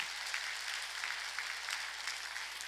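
A church congregation at a Sunday service applauds, a steady, even patter of many hands clapping together at moderate distance, with no voices over it.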